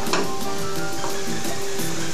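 Ground garlic sizzling steadily in a hot pan while a tamal en cazuela is cooked, with a continuous loud frying hiss and faint stirring scrapes throughout.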